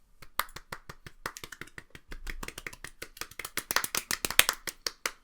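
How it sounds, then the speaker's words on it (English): A small group claps to celebrate the winner of the 34th annual Rad Olympics, with quick, uneven, close claps that grow denser and louder toward the end, with no talking. "Everybody clap."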